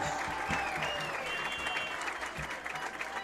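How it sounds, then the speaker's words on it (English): Steady crowd applause and cheering at a high school football game at Foxcroft Academy, honoring senior players; dense clapping holds for several seconds in an outdoor stadium. "another round of applause for our Foxcroft Academy senior football players"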